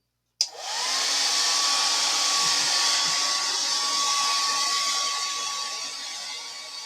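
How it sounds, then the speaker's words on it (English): A blow dryer on its high setting, melting crayon wax, switches on abruptly and roars at full power, a loud steady whoosh with a high whine that holds for several seconds. "It's a blow dryer. So I'm putting it on the high setting"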